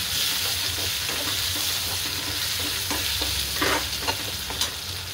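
Tomatoes and curry leaves sizzle in hot oil for a drumstick vegetable curry, a steady close frying hiss with occasional spoon scrapes and stirring clinks, no talking.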